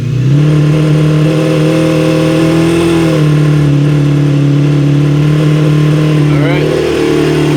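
Yamaha outboard boat engines run at a sustained high rev around 2,500 RPM during winterizing, a loud steady drone that shifts pitch slightly partway through.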